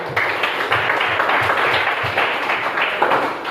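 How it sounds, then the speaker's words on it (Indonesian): Classroom of junior high students clapping hands for a classmate during a coding and artificial intelligence training session, a steady patter of applause lasting a few seconds with low voices murmuring underneath. "Bagus, tepuk tangan"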